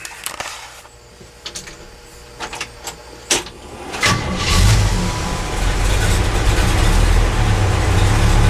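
A fuel-injected 427 engine with 80 lb/hr injectors starts after several clicks and clunks, then settles into a loud, steady, rough-sounding run close by.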